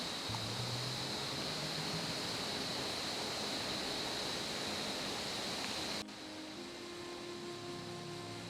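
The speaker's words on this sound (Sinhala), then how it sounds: "සෑහෙන ලොකු වතුර පාරක් යනවානේ" A large stream of flowing water rushes in a constant, even hiss near Minneriya National Park, faint but unbroken throughout.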